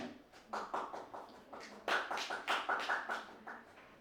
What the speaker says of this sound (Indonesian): Mari kita sambut dengan meriah dan tepuk tangan untuk Bapak Erik Prasetyo